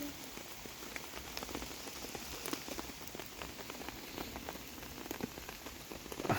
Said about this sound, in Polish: Powoli przestaje padać.